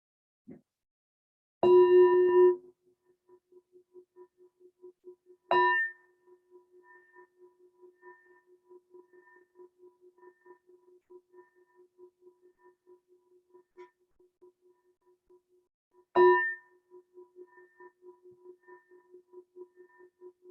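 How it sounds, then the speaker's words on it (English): A meditation bell is struck three times, each a sharp, clear strike followed by a long, pulsing resonant hum that fades slowly in a quiet room. "So bring your attention to this bell sound, please, and follow the sound."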